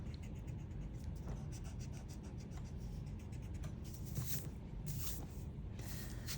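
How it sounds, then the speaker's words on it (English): A pencil eraser rubs lightly drawn lines off paper in a children's art lesson, producing close, soft, repeated scratchy back-and-forth strokes over a faint steady background hiss. "since I drew light, I can go back and erase"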